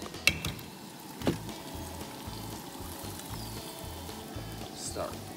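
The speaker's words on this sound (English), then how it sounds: "Start whipping it up in the hot pan with the bacon grease." Eggs frying in a hot pan with bacon grease over a campfire, giving a steady soft sizzle and crackle throughout, broken by a couple of sharp clinks of a utensil against the pan.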